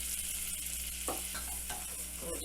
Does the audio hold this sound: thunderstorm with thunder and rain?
no